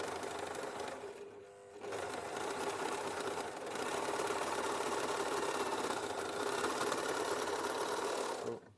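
Sewing machine stitching jersey fabric with a fast, even mechanical whir, close and steady, with a short pause near two seconds before it resumes and runs continuously to the end.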